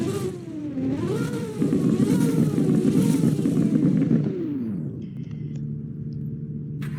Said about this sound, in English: I love the sound of this car while revving.